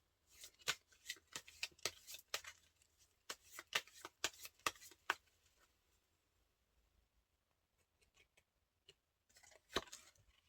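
Tarot cards being shuffled, a run of sharp riffling snaps and flicks in quick bursts, then a pause with a few soft taps before a final flurry, close and isolated.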